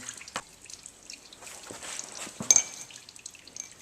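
Engine oil drains from a 2008 Subaru Outback, a soft, irregular patter of dripping and trickling liquid, faint and close, with light clinks in between.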